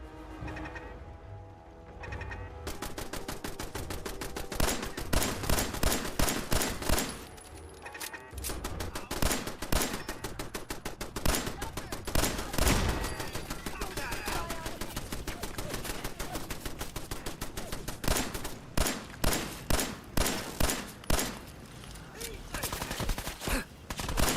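Automated turret firing in Fallout 4 on PS5, rapid bursts of gunfire crackling in long dense volleys, loud and close, with brief pauses between strings of shots.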